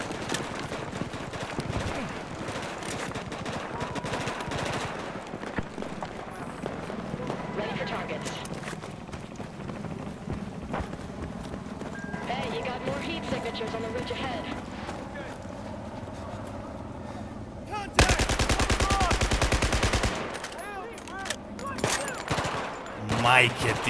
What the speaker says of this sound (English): kakva pucnjava čovječ